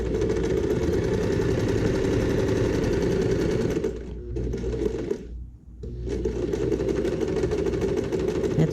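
A sewing machine runs steadily while stitching a fabric maternity bag, briefly slowing and stopping as it reverses to backstitch, then whirring on again, loud and close.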